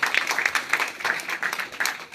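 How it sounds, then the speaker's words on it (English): An audience claps steadily, a dense close patter of many hands at even strength, no voices over it. "let's clap it up for Mama and Baba Kwesi"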